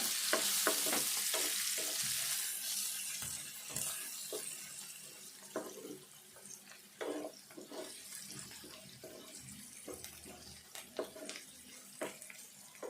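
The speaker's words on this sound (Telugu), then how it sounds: "మెంతి తాలింపుకి వేయాలి" Fenugreek seeds sizzle in hot oil for tempering alongside onion and green chilli while a curry of ivy gourd is being cooked, a loud steady frying hiss at first that fades, then broken by clinks and stirring scrapes.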